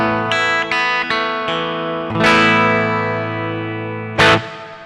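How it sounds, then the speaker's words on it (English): Electric guitar played through the LEKATO Tank G multi-effect on bank 1, patch 1 with an edge-of-breakup tone: a few plucked notes, then ringing chords that sustain and decay with light grit and natural reverb, played alone. "Kind of a edge of breakup sound."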